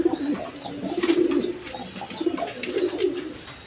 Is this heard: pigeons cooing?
yes